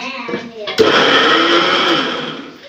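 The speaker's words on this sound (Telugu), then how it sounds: "మిక్సీ మెత్తగానే మెదగట్లే" A mixer grinder blending coconut masala whirs loudly and steadily after a brief start-up, its motor drone spinning on for a couple of seconds before easing slightly at the end, with speech at the start before it runs.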